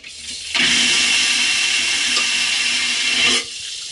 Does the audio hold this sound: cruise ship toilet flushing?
yes